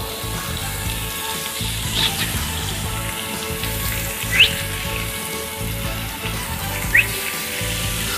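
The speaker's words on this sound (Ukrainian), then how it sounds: "можемо так трошечки вкладати потихеньку на сковорідку гриль" Food sizzling steadily in an oiled grill pan as pieces are laid in one by one, a continuous frying hiss with a couple of brief sharper spits and crackles, close and without talk.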